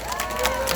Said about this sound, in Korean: 거기에 대해서 박수 한번 쳐주시기 바랍니다.